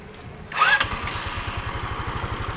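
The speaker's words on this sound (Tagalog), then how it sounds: "I-start muna natin gamit ang ating battery ng impact drive." A Rapid 150 motorcycle engine, being started from an impact drive battery, cranks with a brief whine and catches, settling into a close, steady puttering idle with rapid regular pulses.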